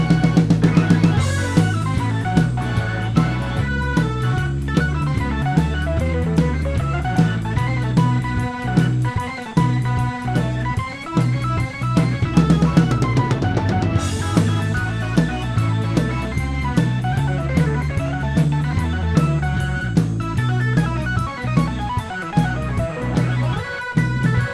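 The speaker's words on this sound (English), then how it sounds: "And what came out was this like banger of a foundation of an organ solo," Organ solo from a full band recording, loud and dense, with a sustained organ line over driving drums and bass, steady throughout with no talking.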